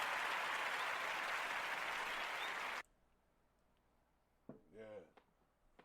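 A live show audience claps steadily for a few seconds, then the applause cuts off abruptly, leaving near quiet with a brief voice afterward.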